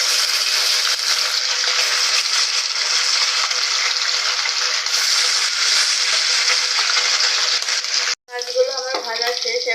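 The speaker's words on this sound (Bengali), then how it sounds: "মাছগুলোর এক পাশ ভাজা হয়ে গেছে। উল্টে অপর পাশটাও আমি একভাবে ভেজে নেব।" Sarputi fish fry in hot oil in a pan, a dense steady sizzle that holds loud and even, then cuts out briefly as the pieces are turned before crackling again.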